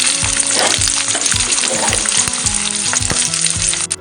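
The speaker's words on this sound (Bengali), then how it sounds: "পেঁয়াজ কুচিগুলো দিয়ে দেবো।" Chopped onions and cumin seeds frying in a little oil in a pan, a steady loud sizzle throughout with repeated soft stirring scrapes, no talking.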